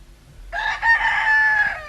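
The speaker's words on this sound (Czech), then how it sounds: "Slyšíš ho? Ten kohout se mi snad vysmívá." A single rooster crows nearby, one long strained cock-a-doodle-doo rising and holding before trailing off, after a moment of quiet.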